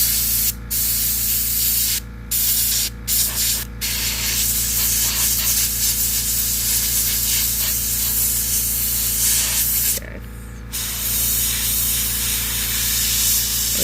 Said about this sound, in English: I just wish I could get the goddamn pump to stop running